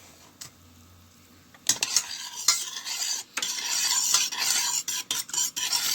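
A spoon stirring orange gelatin dessert mix in a bowl, steady scraping and clinking strokes that start after a quiet moment and carry on, loud and close, with brief pauses.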